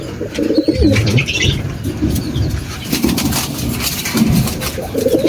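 Domestic pigeon with a leg and back problem that cannot hold itself upright, cooing repeatedly at close range in soft low bursts, with occasional wing flutters and faint chirps in the background.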